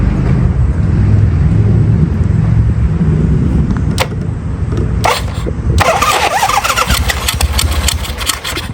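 A 1973 Harley Sportster motorcycle engine starts and runs loud and close, with steady rumbling and revving and a few sharp mechanical clicks toward the end.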